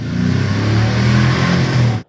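A petrol car engine revs loudly and steadily under acceleration, a continuous close mid-pitched roar that holds for about two seconds before cutting off abruptly.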